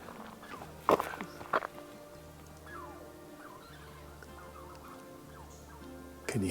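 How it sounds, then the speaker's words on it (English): A chipmunk calls in a Pacific Northwest forest along Sequalitchew Creek Trail, giving a string of short, chirpy notes at moderate distance, with a few sharp footstep-like thumps and crackles nearby. "It wasn't a bird at all. It's a chippy."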